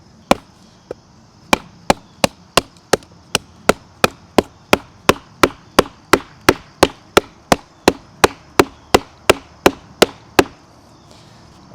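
A knife is hammered hard through wood in a hard-use test, giving a long, steady series of about two dozen sharp, loud chopping strikes, spaced roughly half a second apart, close and with no talk.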